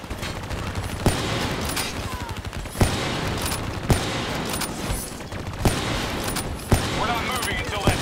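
Sustained turret gunfire in the Call of Duty Black Ops 3 campaign, a dense rapid automatic stream broken by heavier blasts at intervals, loud and continuous throughout.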